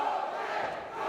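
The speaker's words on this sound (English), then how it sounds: "And this crowd coming alive Nick?" A wrestling crowd roars in a dense, sustained wall of cheering and shouting, loud and continuous throughout the brief moment with no distinct single voice.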